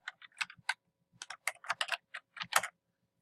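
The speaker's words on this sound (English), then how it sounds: "I'm just going to type in," Typing on a computer keyboard while setting up a WordPress store: quick clusters of close, crisp key clicks in short irregular bursts separated by brief pauses, with no voices.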